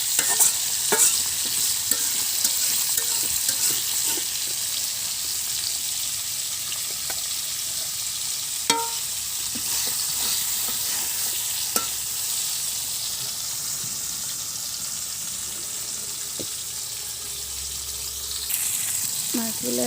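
Large silver fish fry in a clay pot over a clay stove, giving a steady, bright sizzle that runs throughout, with occasional clinks and stirring sounds and a faint voice in the background.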